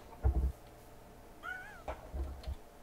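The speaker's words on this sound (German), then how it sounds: "Was hast du denn jetzt gefunden, Katze?" A cat in the Minecraft video game gives a single clear, rising-and-falling meow in the middle, with low thumping game sounds before and after it.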